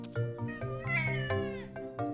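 Cat character in an animated children's show giving a series of clear, close, melodic meows, several short cries with rising and falling pitch, likely voiced by a performer imitating a cat.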